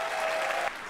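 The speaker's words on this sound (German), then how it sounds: "Einen großen Applaus, Startnummer 2, Franzi Riedinger!" Dense, loud audience applause in a festival tent at the Ulmer Zelt for the performer Franzi Riedinger, a brief burst under a steady ringing tone that cuts off abruptly near the end.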